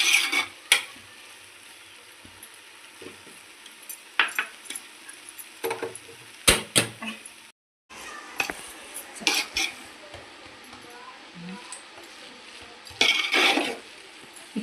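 Carrot halwa with dry fruits simmering on a low flame, giving a soft steady sizzle with scattered sharp clinks and scrapes of a spoon stirring against the pan, no voices.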